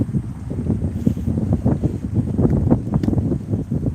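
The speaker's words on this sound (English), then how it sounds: "Oh, this wind's annoying." Strong outdoor wind buffeting a microphone, a continuous loud rumbling roar with gusty fluctuations throughout, no speech.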